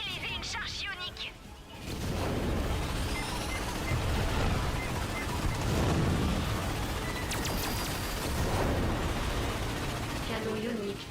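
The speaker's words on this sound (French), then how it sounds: "Canon ionique de la tour de garde. Le canon est prêt. Tire!" An ion cannon on a watchtower fires in Ratchet & Clank, a sustained loud roaring blast with crackling bursts that fills the clip after a short lead-in, with game sounds layered over it.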